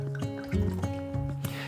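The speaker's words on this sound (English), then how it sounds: "I'm going to add in 90 ml of coffee liqueur" Coffee liqueur is poured into freshly made espresso, a short close trickle with gurgling, bubbling changes in pitch as the liquid fills the container, no talking.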